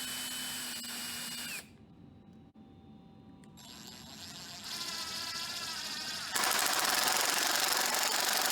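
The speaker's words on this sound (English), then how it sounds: "you got to pre-drill the hole prior to drop the screw down, just to not split the wood" A power drill pre-drills a screw hole in wood while a toddler bed frame is built, its motor whining loud and close in steady bursts that pause briefly, then pitch up higher and grow louder toward the end.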